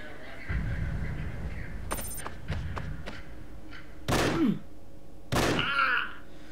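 Gunshots in the tactical video game Frontline Tactics sound as a few sharp, separate cracks and thuds spaced apart, followed by two louder bursts near the end over a low background hum.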